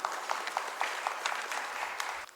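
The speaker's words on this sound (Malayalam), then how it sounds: "നിറഞ്ഞ കയ്യടികളോടെ അദ്ദേഹത്തെ നമുക്ക് സ്വാഗതം ചെയ്യാം." At the DREAMSS Award 2026 ceremony, an audience claps steadily in welcome of an award recipient, a dense, moderately loud round of applause with no voices above it.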